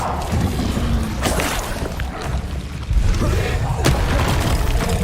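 Incendio fire spells cast repeatedly in the Hogwarts Legacy video game, a loud, dense roar of whooshing bursts and booming impacts that swell and crack sharply near the middle and end.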